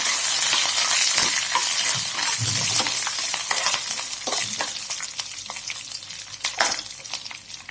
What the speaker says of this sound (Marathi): त्यात शेंगदाणे टाकूया। शेंगदाणे लालसर होऊ द्या।